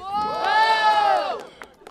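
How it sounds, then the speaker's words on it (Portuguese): Crowd at a Brazilian street rap battle in Barueri, São Paulo, raising a loud, close burst of shouting and cheering voices that swells and then fades within two seconds. "Barulho para Lucas e a Jota"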